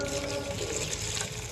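Tap water running steadily over coriander leaves being washed in a kitchen sink, a continuous close splashing hiss with no talk.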